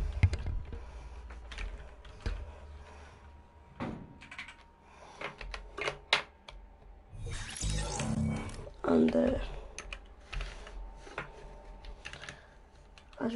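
Typing on a Ducky One gaming keyboard: scattered clacky keystrokes in irregular bursts, with a few louder clunks and rustles in between.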